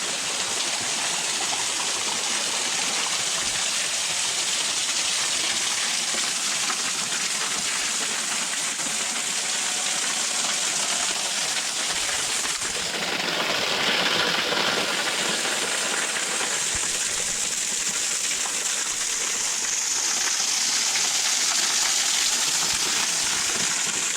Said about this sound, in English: See the waterfall.